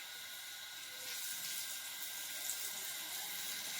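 Running water outdoors where people wash clothes in a Konkan village courtyard, a faint, steady hissing flow that thickens slightly partway through, with no voices.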